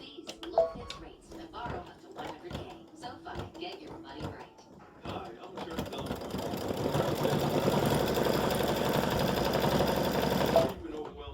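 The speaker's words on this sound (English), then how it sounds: "this is going to stitch on top of this satin, a little top stitch" A sewing machine top-stitches orange thread onto a satin appliqué on flip-flops, its motor whirring in a steady, loud continuous run for the second half after a few short bursts of stitching.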